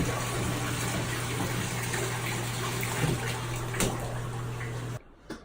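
Water runs steadily into a home bathtub where a boiled pot of blonde ale wort sits cooling. A constant gushing wash rides over a low hum and then cuts off abruptly near the end.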